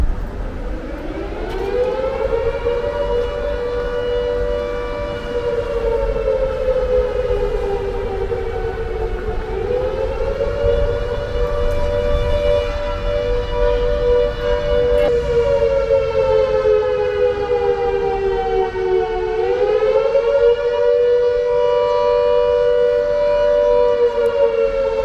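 Civil defense air raid sirens wail continuously in a town, a long rising and falling tone with layered harmonics, loud and sustained throughout without speech.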